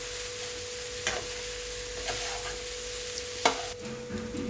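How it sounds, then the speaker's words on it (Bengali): Squash being fried and stirred with spices in a pan for a Bengali squash ghonto, a steady low sizzle with a few soft scraping strokes of the spatula, fairly quiet and with no talking. "এবারে মশলার সঙ্গে এটাকে আমি ভালো করে কষিয়ে নিচ্ছি।"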